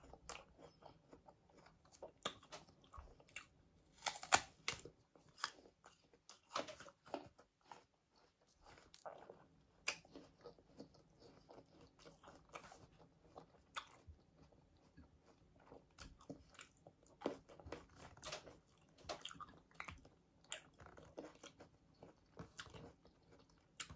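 Someone bites and chews a small, crunchy organic apple, with sharp crunching bites and irregular close-up chewing over about twenty seconds in a quiet room.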